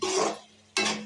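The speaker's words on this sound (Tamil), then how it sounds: "இப்போ இதை நல்லா வதக்கிக்கலாம்." Ground spice masala of chili powder sizzling and being stirred in a hot pan for a fenugreek curry: two short bursts of crackling sizzle and scraping separated by a brief lull, close and alone.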